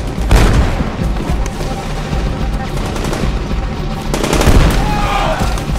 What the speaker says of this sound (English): They're using some grenades in this scene, and grenades are a great weapon.